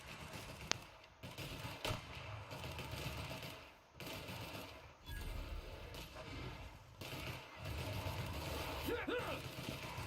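Gunfire in The Outer Worlds role-playing game comes as rapid mechanical bursts that rattle on and off through the clip at moderate volume, with short pauses between volleys and a voice speaking over parts of it.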